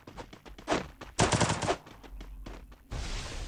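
Rapid bursts of gunfire in Garena Free Fire on the Bermuda map, the factory area: close, loud volleys of shots with a short pause between, then a sustained rattling burst.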